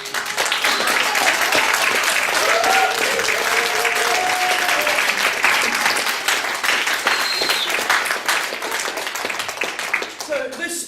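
Loud, sustained audience applause with cheering from a large crowd, dense continuous clapping for about ten seconds with voices mixed in, fading slightly at the end.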